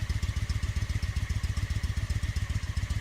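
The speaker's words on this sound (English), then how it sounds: "The 2002 Honda Shadow Ace 750." A 2002 Honda Shadow ACE 750 (VT750) motorcycle engine idles nearby with a steady, rapid lumpy thump, even and unbroken throughout.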